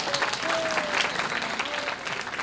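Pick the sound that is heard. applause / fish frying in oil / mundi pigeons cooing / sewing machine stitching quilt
applause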